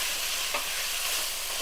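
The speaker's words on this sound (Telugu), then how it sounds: "ఇది కొంచెం వేగనిద్దాము" Ginger garlic paste frying in a pan for prawn fried rice, a steady close sizzle with faint stirring scrapes and no voices.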